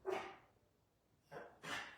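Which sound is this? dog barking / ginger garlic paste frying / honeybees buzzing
dog barking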